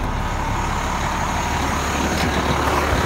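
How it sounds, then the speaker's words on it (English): Cummins 8L diesel engine of a 2010 International Workstar 7600 dump truck runs with a steady broadband rumble, loud and close, with no talking. "You can hear that motor, sounds great. Good old Cummins, reliable."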